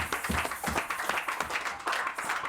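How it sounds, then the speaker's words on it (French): Audience at a televised event applauds a visiting monsignor, a short burst of uneven, fairly close clapping from a modest crowd. "Je vous prie d'applaudir très fort Monseigneur Di Christian Biquet qui est là"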